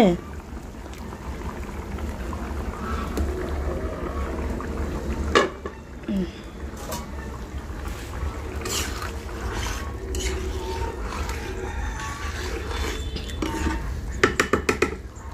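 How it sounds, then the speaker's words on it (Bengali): Fish curry cooking in a pot in a home kitchen: metal utensils clank and scrape against the pot with occasional sharper knocks, under steady background murmur and voices talking. "এই দেখো আমি মাছের তরকারি রান্না করছি"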